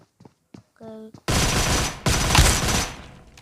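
Rapid gunfire in an aircraft combat video game, erupting as a loud, dense burst after a few quiet seconds with short pauses, preceded by brief electronic tones.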